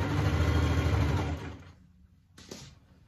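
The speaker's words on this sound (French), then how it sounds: "Positionne bien la ceinture sur le rebord du pantalon et je couds." A sewing machine stitches a waistband onto a pair of trousers made from an unusual fabric, whirring steadily and close for about a second and a half before stopping, followed by a single faint click.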